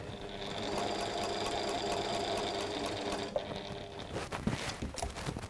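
A sewing machine stitches steadily at a shortened stitch length, forward and then backward, with a continuous close whirring hum that breaks into rougher, uneven stitching toward the end.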